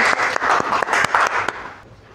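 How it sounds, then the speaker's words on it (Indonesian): A classroom audience applauding a student group as it comes up to present, with a dense burst of clapping that is loud at first and then tapers off over about two seconds. "Berikan aplaus kepada kelompok durian"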